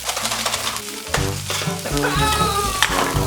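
Homemade Italian sausages browning in a hot pan, a loud close crackling sizzle with bursts of spattering and utensil scrapes as they are turned.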